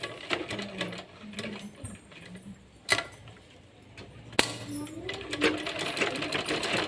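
A sewing machine stitching a frock, running in short whirring bursts with brief stops and a couple of sharp clicks, while someone talks over it.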